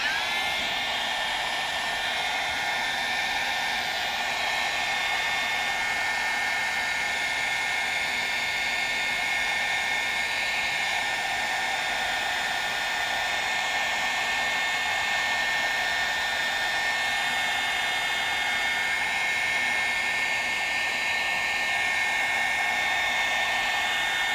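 A hair dryer blows steadily on a freshly painted canvas during a stripes-and-spruce painting session, a continuous, even whir that runs unbroken the whole time with no voices.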